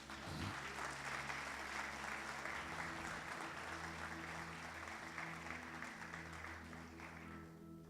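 A church congregation applauds in sustained, dense, even clapping that fills the space for several seconds, with held keyboard or organ tones beneath it.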